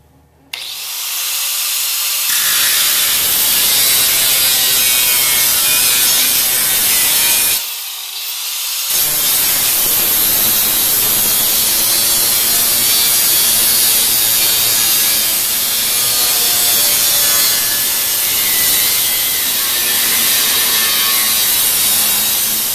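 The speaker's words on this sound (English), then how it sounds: "I'm probably going to now cut across over here so that I can avoid hitting that" A power tool cuts loudly and continuously through the body of a 1994 Toyota Celica, a harsh grinding rasp with one brief pause before cutting resumes.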